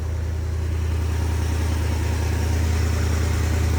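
A 1969 Dodge Dart's 318 V8, revived after sitting 22 years, idles steadily with a deep, even rumble and no voices.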